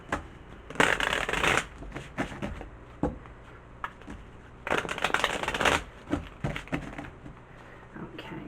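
Tarot cards being shuffled in two bursts of close, crisp riffling, with softer card taps and handling between them; no talking.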